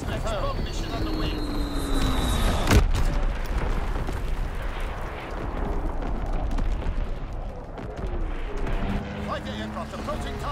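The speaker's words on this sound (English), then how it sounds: "Strike aircraft, Blitz-X bomb ready." Blitz-X bomb strike explosions in Call of Duty: WWII, dense overlapping blasts and rumbling booms with aircraft drone in the background, one sharp crack standing out early in the continuous loud barrage.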